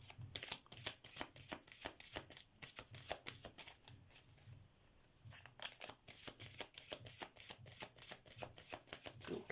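Oracle cards from the Keepers of the Light deck are shuffled steadily in a pick-a-card tarot reading, giving close, rapid rhythmic flicking that runs throughout, with a brief lull in the middle.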